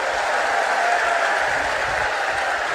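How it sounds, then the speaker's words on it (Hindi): A large crowd claps steadily at an outdoor political rally in Ranaghat, West Bengal, a dense, continuous wash of applause that stays loud and even throughout with no break. "जरा जोर से ताली बजाओ।"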